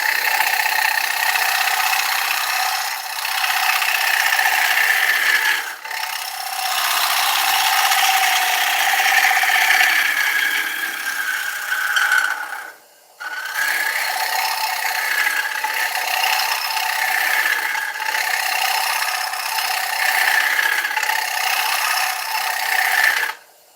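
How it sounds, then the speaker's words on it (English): A wood lathe gouge making light cuts on a spinning ash bowl gives a steady, close, rasping hiss that runs almost continuously, broken by a few brief pauses. "I don't want to be too aggressive with the gouge, you see, because I don't want to take too much material off"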